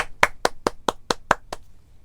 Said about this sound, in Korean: 혼자 박수치고 놀고 있죠